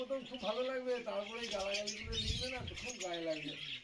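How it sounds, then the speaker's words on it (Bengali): Pet lovebirds, cockatiels and Java sparrows chirp in steady, overlapping tweets throughout, close and fairly loud, with someone talking over them. "সম্পূর্ণ ঘরেরই পাখি।"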